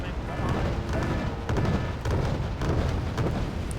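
Autocannon fire in the Cold War strategy game Wargame: Red Dragon, with Scimitar vehicles shooting at helicopters: a rapid series of sharp bangs and booms in bursts, heard under a player's voice.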